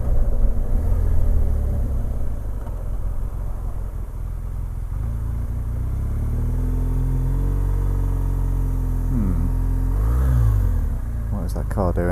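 A car speeds up on a road in France, a loud engine rumble and road roar that rises in pitch as it accelerates, heard from inside a vehicle with a voice speaking briefly near the end.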